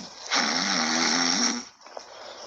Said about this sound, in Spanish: ¿Qué hacemos para que Perro deje de roncar?